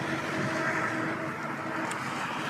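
An e-bike with a 500 watt nominal, 1,000 watt peak hub motor is ridden at about 20 mph on full throttle, giving a steady broadband rush of motor whine and wind noise that holds constant throughout with no talking.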